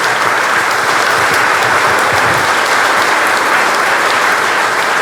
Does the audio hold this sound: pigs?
no